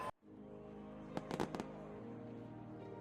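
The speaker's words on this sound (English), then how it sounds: "watching the fireworks paint the night sky with their brilliance" Fireworks bursting over a celebration on August 15, 1947, heard as a short cluster of sharp cracks and pops midway through, set against a steady dense background din.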